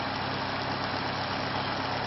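An electric motor hooked to a 230V free energy generator runs steadily at high speed, giving a continuous loud hum and whir with no break and no voices.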